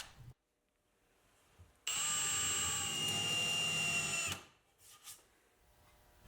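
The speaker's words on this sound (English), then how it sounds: "I'll get the hole started on the drill press" A drill press boring a hole in Douglas fir, a steady high motor whine lasting about two and a half seconds before winding down, close and loud against a quiet workshop.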